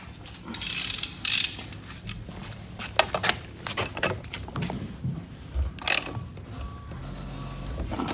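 A ratchet clicks and turns while a castle nut and washer are tightened on an electric ATV during assembly, giving close, uneven metallic ratcheting with scattered clanks.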